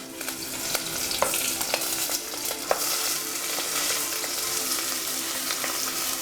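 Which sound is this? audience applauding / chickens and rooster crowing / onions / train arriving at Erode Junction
onions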